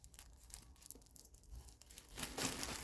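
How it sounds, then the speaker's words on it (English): A plastic kitchen garbage bag is cut and torn at one corner, giving brief crinkling and tearing rustles that grow louder toward the end, with no voices. "I will take a garbage bag, just a simple kitchen type or office type garbage bag, and I would cut a little bit here from the corner"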